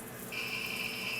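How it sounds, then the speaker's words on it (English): A single high-pitched electronic warning beep sounds steadily over a low background hum. "That beeping noise you hear is telling me that my batteries need charging"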